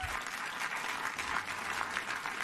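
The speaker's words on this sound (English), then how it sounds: "Thank you for the applause." A radio talk-show studio audience applauds in a dense, even wash of clapping that holds steady at moderate volume throughout, with no voices over it.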